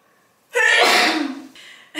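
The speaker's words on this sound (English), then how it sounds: "I had to sneeze" A single sharp human sneeze, close and loud, with a short breathy intake leading into it and a soft exhale trailing after in a quiet room.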